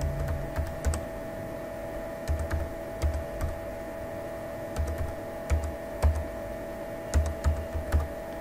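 Keys on a computer keyboard are tapped to enter a Mastercard number into an online exam application form, producing sharp, close clicks in short irregular clusters with brief pauses, over a faint steady electrical hum and no talk.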